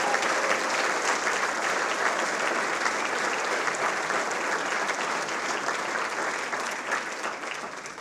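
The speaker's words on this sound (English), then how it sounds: "please give one more last round of applause for both the Roaring10 honorees as well as the DSA honorees" Sustained, full-room applause at an evening ceremony for Distinguished Service Award and Roaring10 award honorees, loud dense clapping that holds steady and then thins slightly toward the end.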